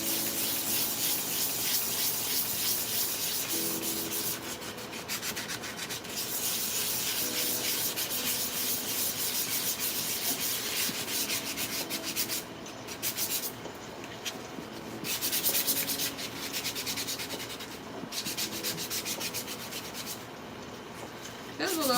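A sanding sponge scrubs over Bondo filler on a 3D-printed Iron Man helmet, a close, steady rasping rub in long continuous strokes with brief pauses between passes.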